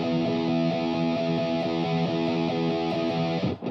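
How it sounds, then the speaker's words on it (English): Rapid, even alternate picking on a metal-toned distorted electric guitar, a steady stream of fast repeated notes that stops abruptly near the end. "So basically it's just alternate picking, down, up, down, up, down, up"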